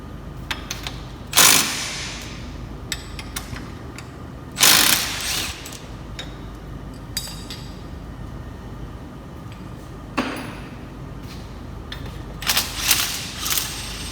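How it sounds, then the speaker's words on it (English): Ratcheting wrench working loose a hub bolt on a Can-Am Defender side-by-side, heard as three or four short bursts of rapid metallic clicking spread over the stretch, with quieter tool clatter between, close by and with no talking. "Go ahead and take the shock bolt or the hub bolt loose."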